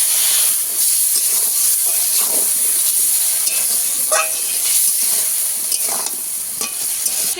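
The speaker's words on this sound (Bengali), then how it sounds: "এবার সামান্য জল দেব সামান্য একটু মশলা দেওয়া জল" Spiced water poured into a pan of frying potatoes, ginger and tomato, loud steady sizzling and steamy hiss close up, with stirring scrapes breaking through now and then.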